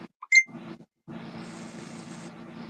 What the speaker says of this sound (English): What was that noise? My phone.